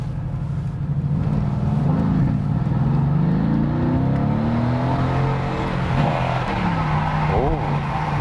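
Mercedes-AMG GT from 2016 revving and accelerating, then shifting down, engine tone sweeping up and falling with a rough exhaust note, close and loud throughout.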